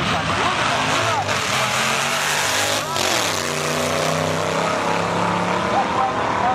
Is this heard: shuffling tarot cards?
no